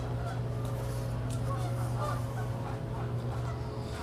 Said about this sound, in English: the geese are going crazy outside.